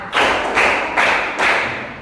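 Four loud, evenly spaced hand claps close to the mic, part of a slow counted clapping exercise, with no talk between them.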